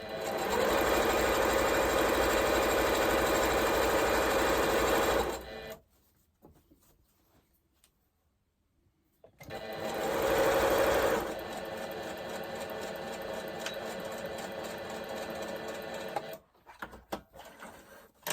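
Sewing machine stitching a shopping bag, loud steady runs of stitching broken by a silent pause, then another burst and a quieter spell of running.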